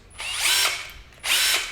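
An electric drill whirs in two short bursts on its variable speed trigger, the first winding up and sustaining for about half a second, the second starting abruptly after a pause, close and loud.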